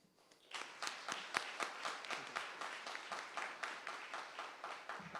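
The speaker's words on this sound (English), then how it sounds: "please help me give a round of applause for them." An audience gives a round of applause, starting abruptly and continuing with a steady rhythmic clapping that is moderately distant and fairly quiet, with no talk over it.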